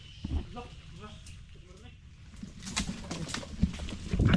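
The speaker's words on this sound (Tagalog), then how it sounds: "Daming ibon." Many birds call at once outdoors, with soft pigeon- or dove-like coos and a possible wing flutter, set against a steady rustling background while people talk nearby.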